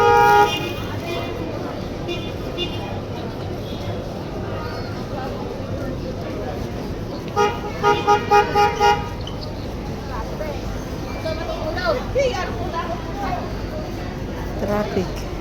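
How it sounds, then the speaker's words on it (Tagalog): Car horns toot in busy, dusty street traffic, with a cluster of short honks in the middle over a steady roadway din, while people talk nearby. "Traffic."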